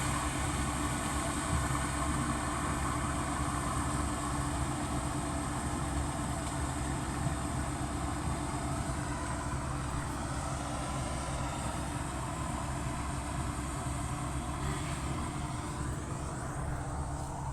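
A combine harvester engine roars steadily at close range while turning in a field, a dense, unbroken mechanical drone that strains and swells slightly, with no voices.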